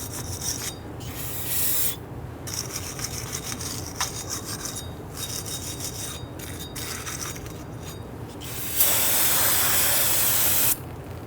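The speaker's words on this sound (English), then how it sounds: "Using some spray solvent, spray it down, and then use your bristle brush and go ahead and break down any of that rust." Spray solvent hisses in repeated bursts onto the rusty front wheel hub of a 2011-2017 Nissan Quest, alternating with harsh scrubbing from a bristle brush, ending in one long loud spray.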